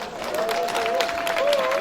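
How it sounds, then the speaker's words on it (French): An audience at a regional public gathering in Côte d'Ivoire claps in a dense, steady round of applause mixed with crowd murmur, with a voice heard faintly over it. "Je voudrais que vous puissiez vous applaudir."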